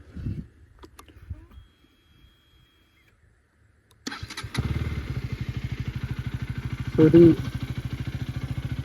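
A KTM Duke 250 motorcycle cold-starts after a quiet stretch with a brief voice, catching suddenly and settling into a loud, steady, rapid idle thump with a short blip partway through.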